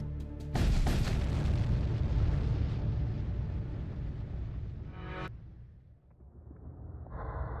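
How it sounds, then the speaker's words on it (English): A heavy explosion bursts out in the space combat game Void War, loud and broadband with a long rumbling roar that tails off after several seconds, followed by quieter game sounds. "The explosion scatters debris in all directions."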